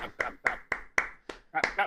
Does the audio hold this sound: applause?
yes